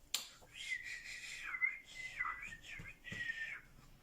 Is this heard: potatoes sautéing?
no